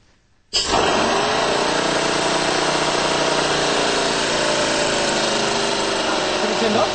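A small compressed-air model engine starts abruptly and runs steadily at a high, buzzing idle, loud and close, with a faint voice underneath.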